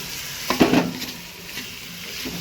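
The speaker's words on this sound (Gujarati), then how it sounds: "આપણે સરસ મજામાં આવી રીતે હલાવી લેવાનું છે." Kaju paneer masala, a cashew and paneer curry, being stirred in a pan: a short burst of scraping and soft clatter near the start, then a low, steady sizzle that fades.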